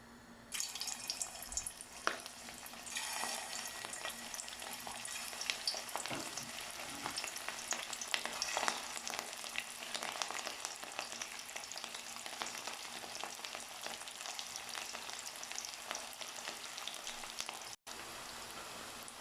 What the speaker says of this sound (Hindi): अब हम कोफ्ते फ्राई करते हैं